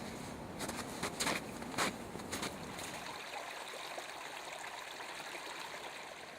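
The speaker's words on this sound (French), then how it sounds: "je suis en train de longer un petit ruisseau" A small stream flowing through a forest, a soft, continuous trickle and gurgle heard quietly at close range, with a few brief rustling bursts early on and no talking.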